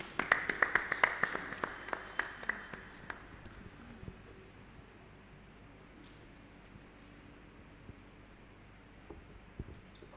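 A congregation at a children's church service claps rapidly and loudly for about three seconds, with a few cheers over it, then the applause thins to scattered claps and fades into quiet room noise.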